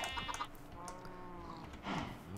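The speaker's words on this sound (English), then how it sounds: "Come on, chickens." Minecraft chickens cluck and bleat-like clucks sound faintly in a quiet game scene, a few short calls with no talk over them.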